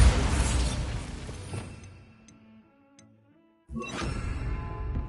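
Bombarda blasting spell in Hogwarts Legacy, a loud burst that fades into a quiet stretch with faint ticking, followed by a second sharp explosive blast with a long rumbling tail.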